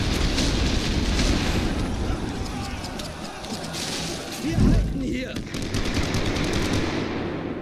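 Machine gun fire in the World War I strategy game The Great War: Western Front, a dense, continuous rattle of gunfire with a heavy thump midway, loud and sustained throughout.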